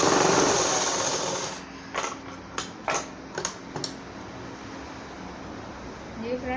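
A sewing machine stitches a slanted seam on a designer blouse in several short, sharp bursts of clattering needle action, close and fairly loud, with a voice heard before and after.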